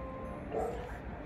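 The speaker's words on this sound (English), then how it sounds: "Okay, dog barking," A dog gives a single brief bark, somewhat distant, against a steady indoor background.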